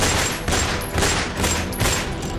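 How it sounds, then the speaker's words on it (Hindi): A public shootout in Gokulpuri, Delhi, with more than 16 rounds fired: loud, rapid gunshots crack in a rhythmic burst, each shot sharp and close, following one another every half second or so. "16 राउंड से ज्यादा फायरिंग"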